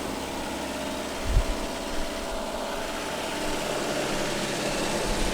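A steady engine drones and idles nearby, a constant low rumble with one brief thump early on and no voices.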